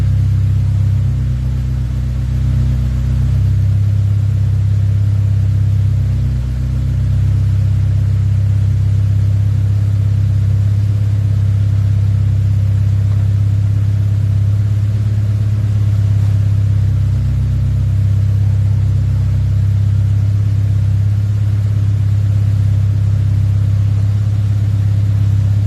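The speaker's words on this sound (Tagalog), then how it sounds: "Medyo maingay lang po yung kanyang tambutso, kaya kung mapapansin nyo, malakas ang tunog." A Honda Civic's noisy exhaust runs in a repair shop, a loud, steady low rumble for the whole stretch with slight swells in engine speed and no voices over it.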